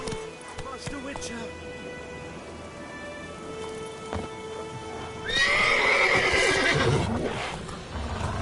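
A horse in The Witcher 3 video game gives a loud, rising neigh midway through, over hoof clops and soft game ambience with rain, following a quieter stretch.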